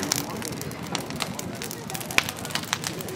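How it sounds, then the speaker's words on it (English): Bonfire freshly lit outdoors at a winter engine show, a continuous crackle and snapping with scattered sharp pops over a rushing blaze, while people talk nearby. "Just started the bonfire. Okay, well, it's a nice blaze."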